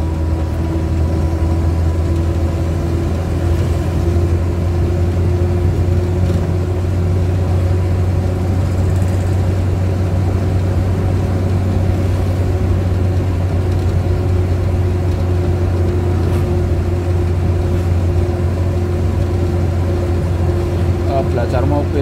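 A Suzuki Carry drives along with a steady low engine drone and constant road rumble, the hum holding even and loud from start to finish.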